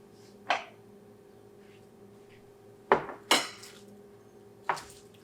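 A knife chops cabbage sprouts and a small bowl is handled, giving four sharp, isolated knocks and clinks spaced unevenly over a quiet kitchen background.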